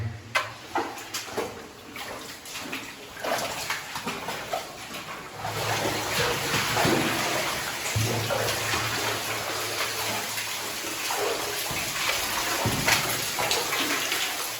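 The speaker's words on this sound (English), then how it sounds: "Wow, water coming down from upper levels there." Water pours down from upper levels inside an abandoned Welsh lead mine, a continuous splashing gush that starts broken and grows into a fuller, steady roar echoing in the underground space.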